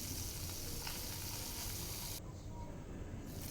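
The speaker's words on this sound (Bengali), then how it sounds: "হলুদ নুন মিশিয়ে হালকা করে ভেজে নেব" Small puti fish coated in turmeric and salt fry lightly in hot oil, giving a dense, steady, close sizzling hiss throughout, with no talk.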